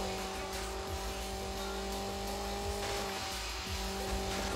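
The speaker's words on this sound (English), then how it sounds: "They're using their nitrous oxide." Race cars boosting on nitrous oxide in the video game Need for Speed: Underground give a continuous, roaring engine drone with steady whining tones. The sound stays loud and unbroken throughout, with no voices.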